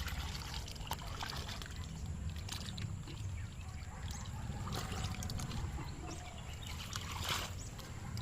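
Water pours and trickles steadily at a low level, with occasional light splashes and drips, no voices: water mixed with animal manure being poured to feed azolla.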